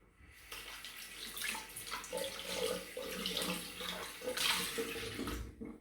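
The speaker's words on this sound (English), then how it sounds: "Just going to rinse this out under the tap." Water runs from a tap while a shaving brush or bowl is rinsed out beneath it, a soft, continuous splashing that swells and shifts as the object moves under the stream.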